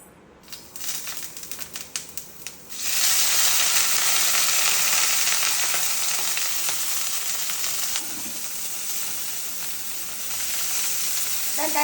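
Spring onions frying in a cup of hot oil give a loud, steady sizzle that erupts after a few brief crackles and holds strong, with occasional stirring, no talk over it.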